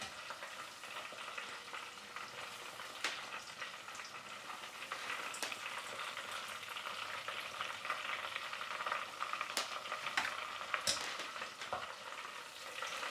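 Sandwich fillings fry in hot oil for a Toronto-style sandwich, a continuous close sizzle with bubbling crackles and occasional sharper pops, with no talking.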